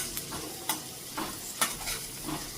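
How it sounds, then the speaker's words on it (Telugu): Onions and garlic frying in a pan for a mint-onion chutney, a steady soft sizzle punctuated by several brief louder scrapes and stirs, close and alone with no talk. "ఈ ఉల్లిగడ్డలు కొంచెం మగ్గిన తర్వాత ఈ ఎల్లిగడ్డ కూడా వేసుకోవాలి."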